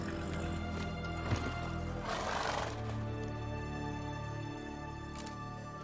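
Roach, a horse in The Witcher 3, lets out a loud, close whinny and snorts over steady hoof clip-clops, with a droning game soundscape running underneath.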